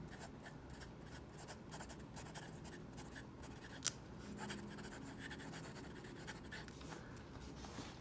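A TWSBI Eco fountain pen with a steel nib scribbles across paper, giving a steady, close scratchy feedback that runs continuously with one brief sharper tick midway.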